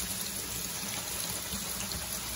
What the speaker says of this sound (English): We all know how to rinse our black beans.